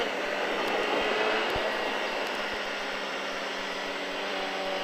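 A steady motorcycle engine drone on a race track, rising slightly as the bike accelerates, continuous and fairly close, with no talking.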